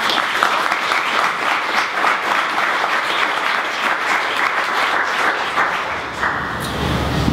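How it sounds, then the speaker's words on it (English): An audience at a panel discussion gives a warm round of applause, a loud, sustained crowd clapping that thins briefly near the end before swelling again. "Please give her a warm round of applause."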